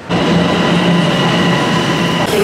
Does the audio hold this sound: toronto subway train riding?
yes